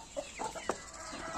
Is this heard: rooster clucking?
yes